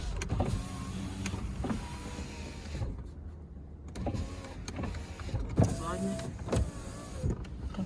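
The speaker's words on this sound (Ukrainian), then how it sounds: "Склопідйомники." Power windows on a Volkswagen Golf whir up and down in repeated motor runs, close and moderately loud, with brief pauses and a few clicks between cycles.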